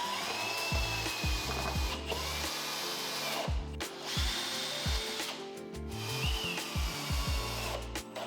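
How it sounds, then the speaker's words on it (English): A power drill pre-drills Western red cedar pergola supports into a footer, with repeated short bursts of whirring spin-up and wind-down, close and loud, separated by brief pauses and workshop noise. "I attach them to the footer first, pre-drilling to prevent splitting."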